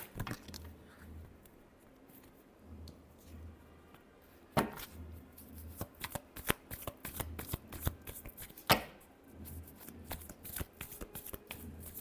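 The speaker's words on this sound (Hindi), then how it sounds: "लास्ट शफल देखते हैं।" A deck of tarot cards is shuffled close up in quick, riffling bursts with crisp slaps and flutters, steady and continuous with no talking.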